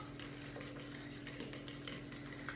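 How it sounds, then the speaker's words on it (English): A fork beats eggs in a bowl for a banana loaf, producing quiet, rapid clinking taps of metal against the bowl in an even rhythm, close but faint, with no speech. "So give that a little mix up with a fork."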